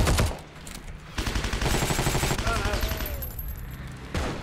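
An assault rifle in Heroes & Generals fires a full magazine as rapid bursts of loud, close automatic shots. A short pause breaks the firing before it resumes, with a faint voice underneath.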